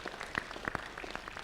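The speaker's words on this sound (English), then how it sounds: "I think we should give them a very sound round of applause." Sparse, distinct handclaps from shareholders at an annual general meeting, a handful of separate sharp claps in loose rhythm, fairly close and moderately loud over a quiet hall.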